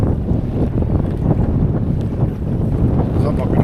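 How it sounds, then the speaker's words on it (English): Strong wind buffets the microphone beside the River Tamar near the Tamar Bridge, a loud continuous rumbling roar with gusty swells and no break. "That wind's really picked up here."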